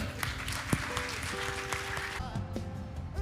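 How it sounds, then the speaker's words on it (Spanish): Clapping rises in a church service just after a worship song ends, with the crowd's applause mixed with lingering music and a held tone, moderately faint and fading after a couple of seconds. "Dale un fuerte aplauso, Señor."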